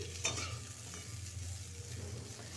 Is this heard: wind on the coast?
no